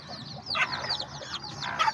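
A hen clucks among her small chicks, soft repeated clucks mixed with thin high cheeping from the brood, close and moderately loud with no talk.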